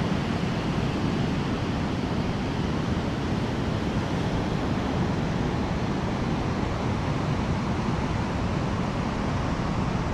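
At Arambol beach in Goa, ocean waves roll in during rain, making a constant loud, broad roar of surf mixed with wind and rain and no voices.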